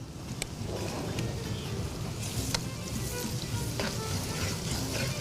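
Onion frying with ginger and garlic in a pan for a rice dish, a steady dense sizzle with occasional stirring clicks throughout, no talk.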